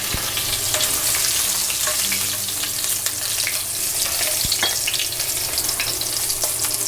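Cumin seeds with red and green chillies frying in hot oil in a pan while making Nepali-style thukpa, giving a steady, dense sizzle with occasional stirring clinks and pops, close and continuous.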